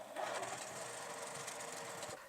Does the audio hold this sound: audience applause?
no